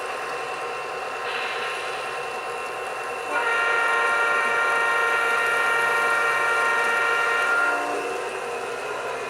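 A DCC-controlled model train's horn sounds in a long, steady electronic tone over the hum of the running engine, then cuts off as the motor continues.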